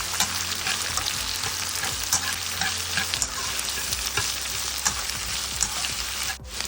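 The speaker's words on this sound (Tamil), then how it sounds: "நறுக்கி வச்சுருந்த வெங்காயத்தை ஆட் பண்ணிக்கிறோம்." Chopped onions sizzle and fry in a pan for a potato samosa filling, with steady loud crackling and occasional stirring scrapes, close up and without speech.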